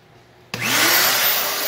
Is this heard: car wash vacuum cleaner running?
yes